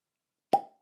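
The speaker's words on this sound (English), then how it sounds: "Oh, nice cork pop." A cork pops out of an Old Grand-Dad bourbon bottle with a single sharp, close plop that fades quickly into silence.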